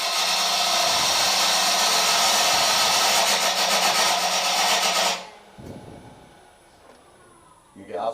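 A wood gouge scrapes end grain on a spinning lathe while turning a live-edge platter full of voids and defects. The harsh, continuous rasping lasts about five seconds, then cuts off into quieter background noise.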